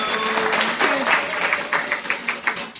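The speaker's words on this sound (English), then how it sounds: "Give a round of applause for my co-host, Birdio." A crowd claps steadily for a few seconds, loud and close, with a voice briefly audible over the applause.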